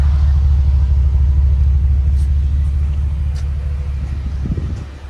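A Ford F250 STX with a 6.2L V8 idles through its aftermarket exhaust, a loud, steady deep rumble held close and even, easing slightly toward the end.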